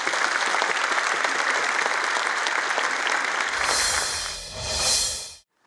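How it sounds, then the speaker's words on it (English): A keynote audience at the TiEcon 2024 conference breaks into loud, dense applause, which gives way to swelling tonal music before cutting off abruptly. "a big round of applause"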